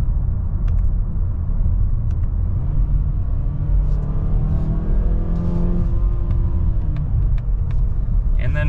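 Mazda CX-5 Premium Plus AWD engine pulling at about half throttle, a steady close cabin rumble with a faint rising tone through the middle, then settling back.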